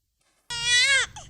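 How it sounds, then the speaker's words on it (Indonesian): A recorded baby's cry, played to test a sound-sensor baby-cry detector, bursts out after a brief silence, one loud wailing cry followed by a short second sob. "tangisan bayi"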